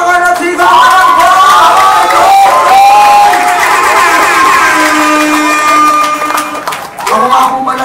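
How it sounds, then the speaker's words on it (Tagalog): A loud crowd at a Filipino rap song competition in a Skybar venue roars and cheers over blaring music, sustained and close with a brief dip before swelling again. "Aking pong hinihingi ang malakas na palakpakan at sigawan ko!"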